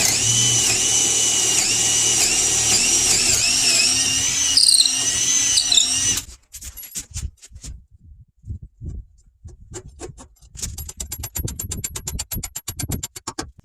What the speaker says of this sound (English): Now I'm going to use a 3/8 inch regular drill bit, drill through the 2x6